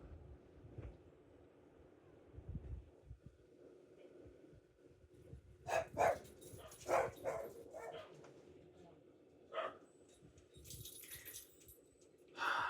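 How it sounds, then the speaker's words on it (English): Dogs bark in the early morning, several sharp barks in a loose cluster at a moderate distance, with wind noise buffeting the microphone and a person talking faintly beforehand. "it just never gets old hearing dogs barking, especially at this time of the morning"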